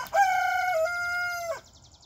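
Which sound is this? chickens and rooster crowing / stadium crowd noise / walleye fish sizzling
chickens and rooster crowing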